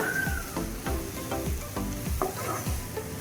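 Turmeric and spices being sautéed in a pan over a low flame, with a spoon scraping and stirring in repeated strokes through a steady close sizzle.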